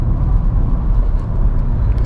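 A Honda Civic Touring engine hums steadily and loudly from inside the moving car, with a constant low drone and road noise and no voices.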